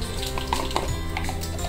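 Mustard seeds crackle in hot oil for bisibelebath, a dense close sizzle with a few quick pops and faint utensil clinks, no talking.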